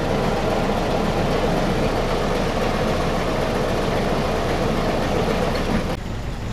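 A Willys CJ2a's L134 four-cylinder engine idles steadily with a rough, continuous rumble, close and loud, before the sound drops away abruptly near the end.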